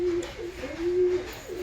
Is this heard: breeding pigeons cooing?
yes